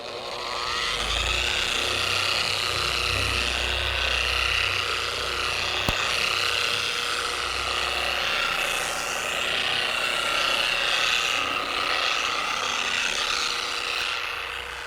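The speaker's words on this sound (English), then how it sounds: "it's really easy to spread sealant with a dual action polisher and the black pad" A Chemical Guys TORQ22D dual action polisher with a black pad spreads sealant across car paint, its motor whirring loudly and steadily with a constant high buzzing drone for the full stretch, without talking.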